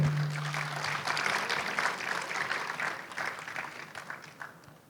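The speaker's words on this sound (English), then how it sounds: "Give him a big round of applause." Conference audience applauding an HR director at a leadership event, a dense sustained wash of many hands clapping that slowly fades toward the end, with no talking over it.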